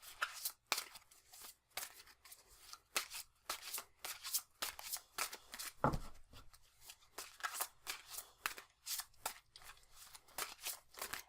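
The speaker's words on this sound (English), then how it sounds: "I'm going to marry the energy and then shuffle just these 8 cards" A small deck of eight tarot cards is shuffled by hand in quick, irregular riffling bursts of crisp card slaps. The sound runs steadily for about eleven seconds, close and soft, with no talk.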